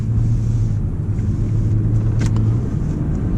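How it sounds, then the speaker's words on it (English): A used Audi A6 C6 Quattro engine idling, a loud steady low rumble with a constant hum, heard close with a couple of faint clicks and no talk. "the engine is running really fine"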